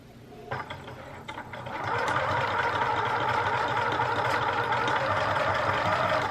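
A fancy sewing machine stitches a homemade fabric mask, its motor starting in short bursts and then settling into a steady, fast, whirring rattle that runs close and loud without pause.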